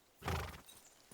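A horse in the medieval video game Kingdom Come: Deliverance 2 gives a single short snort or whinny burst, close and fairly clear, with no talk.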